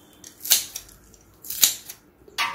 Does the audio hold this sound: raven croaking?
no